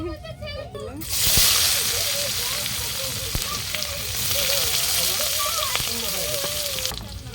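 Cumin, dried red chilli and a bay leaf hit hot oil for an egg curry, setting off a loud, sudden burst of sizzling that settles into steady crackling and spitting, with a voice talking over it.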